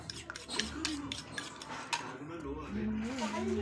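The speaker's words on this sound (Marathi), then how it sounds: "सगळं साहित्य टाकून आपण त्याला फेटून घेत आहे।" Egg batter with mixed ingredients being whisked in a bowl, a quick run of metallic clinks and scraping strokes against the bowl, close and fairly busy with brief pauses.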